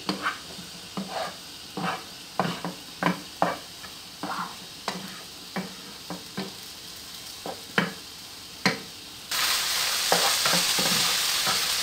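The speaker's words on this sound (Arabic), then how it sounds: "نحركو هذا الشعريه تطيب مزيان" Vermicelli fries in oil in a pan while a utensil stirs it in regular scraping strokes over a soft sizzle, then the sizzle swells into a louder continuous hiss near the end.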